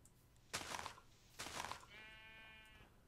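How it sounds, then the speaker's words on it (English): Sheep in a block-building video game bleat twice in short, loud bursts, followed by a thinner, wavering bleat, with no talking. "those sheep are driving me nuts"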